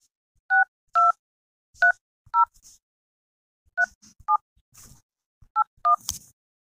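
Keypad tones sound as an IDBI debit card number is entered by phone, in short separate electronic beeps of varying pitch, clear and close, in two quick groups with small clicks between them.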